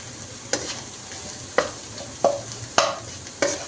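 Egg bhurji cooks in a pan with a soft background sizzle, broken by five sharp scraping stirs of a spatula spaced about a second apart. No one talks.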